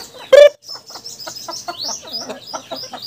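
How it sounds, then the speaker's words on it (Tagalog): Chickens cluck repeatedly in a farm coop, a loud squawk at the start followed by a steady stream of close, overlapping clucks and short calls. "Ayan ang mga ating mga manok."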